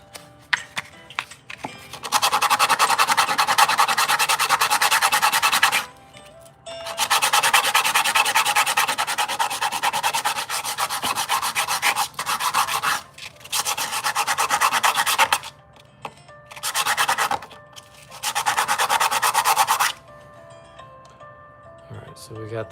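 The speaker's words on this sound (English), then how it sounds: "Get our sandpaper out." Sandpaper rubbed back and forth over a handmade copper ring, several long bursts of steady scratchy rasping separated by short pauses, close and clear, with occasional talk.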